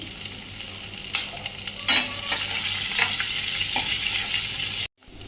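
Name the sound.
frying onions with salt in a pan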